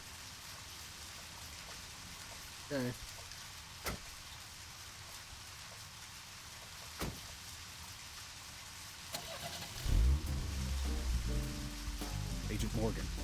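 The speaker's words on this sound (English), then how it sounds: "Oh, because it started raining." Steady rain falls in the Deadly Premonition video game as a soft, even hiss, with a few faint ticks. Someone speaks briefly and a car engine rumbles up near the end.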